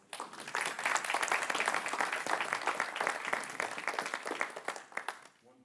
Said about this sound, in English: Give a round of applause for all.